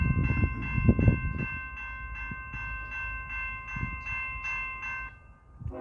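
A Norfolk Southern freight train creeps slowly along the rail, its steady rumble and low mechanical hum carrying evenly throughout, with a few heavier knocks near the start and no voices.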